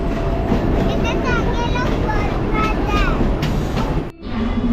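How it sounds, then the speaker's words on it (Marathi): Mumbai local train running toward Marine Lines station, a steady loud rumble of wheels and carriage noise throughout with faint high squeals, briefly dipping near the end; people talk quietly over it. "आता मरीन लाईन स्टेशन येणार आहे."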